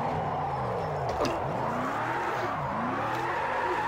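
A Ford Mustang RTR drifting in Project Cars 2 at high speed, with the engine droning steadily while the tires squeal in long wavering skids that rise and fall continuously and stay close and loud.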